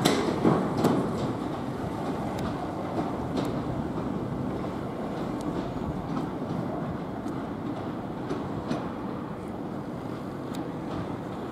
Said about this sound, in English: And there goes the vandalism train.